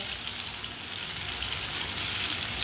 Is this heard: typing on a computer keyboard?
no